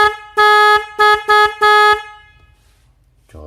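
A snail-type car horn blasts in four loud honks, one long then two short and another long, followed by silence and a faint clunk.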